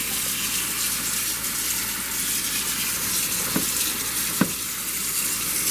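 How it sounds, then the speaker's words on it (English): Cold tap water runs steadily over cooked macaroni noodles in a kitchen sink, a continuous close hiss and splash with a couple of small knocks. "I'm running cold water over my noodles, and that's going to stop them from cooking"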